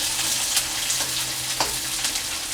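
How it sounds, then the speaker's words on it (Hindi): Onion sizzles and fries in a pan with curry leaves while being stirred, a dense continuous crackling hiss with small scraping clicks from the spoon, close and steady. "कड़ी पत्ता डालने के बाद हम डालेंगे कांदा, और हल्के हाथ से चलाते रहना है।"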